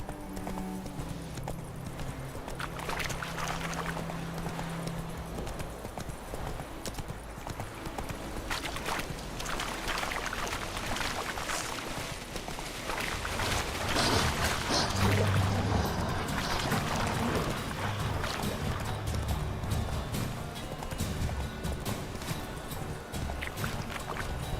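Geralt's horse Roach gallops in The Witcher 3, a steady rhythmic clip-clop of hooves running continuously under rushing ambience, with brief game sounds layered over it.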